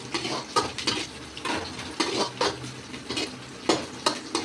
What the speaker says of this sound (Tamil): இரண்டு பச்சை மிளகாய் இதை போடும் நன்றாக வதங்குவோம்